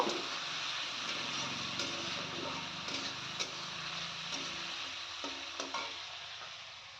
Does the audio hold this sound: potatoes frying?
yes